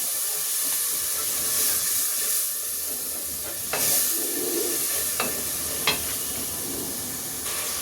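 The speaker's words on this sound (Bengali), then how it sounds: "লবণটা দিয়ে একটু মশলাটা একটু কষিয়ে নিই।" Spice masala with salt frying in oil for a jute-leaf and mung dal dish, giving a constant loud hiss and sizzle with occasional scraping strokes of a stirring spoon.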